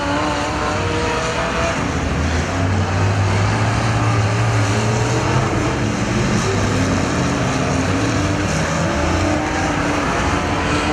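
Figure 8 race cars at Perris Auto Speedway roar past in a loud, continuous engine drone, with engine tones rising and falling as the pack passes near.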